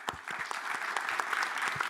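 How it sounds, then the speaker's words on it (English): A conference audience applauds a panel with a brief, dense burst of clapping that stays even and moderately loud for about two seconds. "Let's give a round of applause to the panel."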